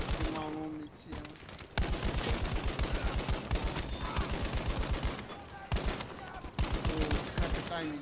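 Video game gunfire in dense, rapid automatic bursts, loud and close, with brief breaks between volleys and tonal game sounds mixed in.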